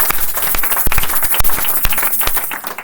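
Dense audience applause at a church sermon led by a preacher, a steady roar of many hands clapping with sharp individual claps standing out, loud and close for the whole stretch.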